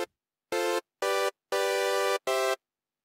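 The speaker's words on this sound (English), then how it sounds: "that's pretty raw. It's the typical sound of a sawtooth wave with nothing else done" A raw, unprocessed sawtooth-wave synth patch in NI Massive plays four bright, buzzy sustained notes of varying length, with short gaps of silence between them and nothing else in the background.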